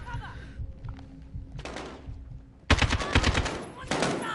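Gunfire in Call of Duty: Warzone arrives as short bursts after a quieter stretch, then turns into loud, rapid automatic fire near the end, close and punchy.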